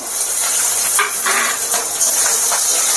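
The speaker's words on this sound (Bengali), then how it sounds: "এগুলো আস্তে আস্তে ভাজা ভাজা হতে লাগুক" Onions, fresh and dried chillies, garlic and black cumin frying in a pan, a steady bright sizzle with a few soft scrapes of stirring, close and continuous.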